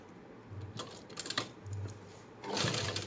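A sewing machine stitches beaded lace onto a blouse sleeve, its motor running in two or three short bursts of rapid stitching separated by brief pauses, close and clear with no talking.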